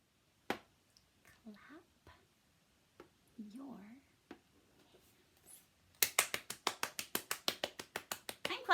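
Children in a reading class clap in a quick, steady series of sharp claps near the end, after quiet talk and a few isolated claps earlier.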